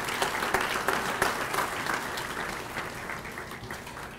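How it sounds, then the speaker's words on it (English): An audience at a firefighters and heroes gala applauds warmly, a dense crowd of clapping hands that swells early and then slowly tapers off, loud and close with no talk over it. "So let's give everybody a big hand of applause."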